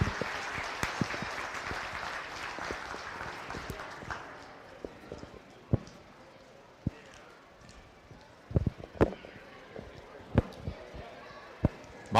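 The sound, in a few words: audience applause at beef show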